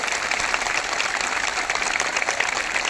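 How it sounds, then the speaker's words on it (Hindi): A crowd at a construction workers' protest welcoming a former legislator claps loudly and continuously, a dense, even burst of many hands close by with no speech over it. "जोर से ताली बजाना, एकदम जोर से।"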